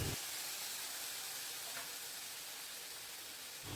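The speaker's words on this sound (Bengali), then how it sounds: "হালকা একটু জল দিচ্ছি, ওই 1/4 কাপ পরিমাণ, তাতে আলুটা ভালোভাবে সেদ্ধ হবে।" Water poured into a hot pan of potatoes sets off a loud, steady sizzling hiss of steam that lasts the whole moment and stops abruptly at the end.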